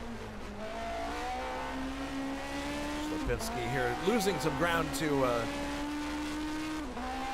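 Racing cars from a 1979 DRM Division 2 race at the ADAC-Hessen-Cup drone steadily throughout, with a louder burst of revving and tire squeal midway, all under continuous commentary.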